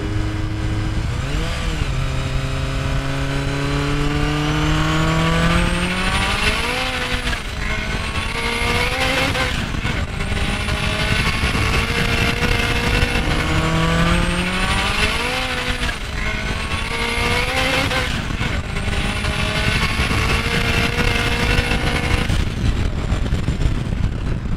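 Turbocharged 1.6-litre Honda HR-V making 507 hp, accelerating hard on a track with loud, sweeping rising engine pitch through repeated gear pulls, close and continuous with no talk.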